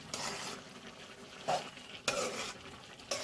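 A spoon stirs chicken curry in a pot, with scraping strokes at about 0.1 s, 1.5 s, 2.1 s and 3.1 s and a faint simmer bubbling underneath. The stirring sounds close and moderately loud, and nobody speaks.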